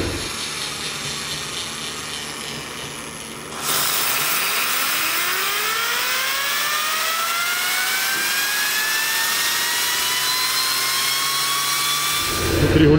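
Ship's steam turbine in the engine room winds up after its speed regulator is adjusted, a loud steady machinery roar with whining tones that climb steadily in pitch over several seconds, alone without talk.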